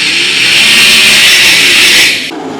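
Sprint cars accelerating off the start of a dirt-track race at the Brad Doty Classic, a loud, sustained high-pitched engine roar from several cars that holds steady, then drops off sharply near the end with no talk.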